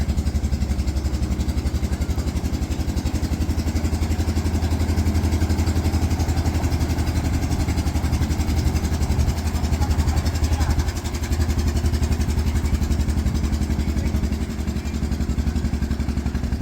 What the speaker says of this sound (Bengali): এই যে খাল দিয়ে এখন নৌকা বেরোচ্ছে, ওপারে যাবে